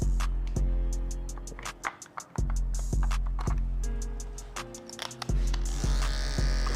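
Electric hair clippers fitted with a detachable 1 blade buzz while cutting hair, a close steady hum repeatedly interrupted by short bursts and clicks as the blade moves through hair in uneven strokes.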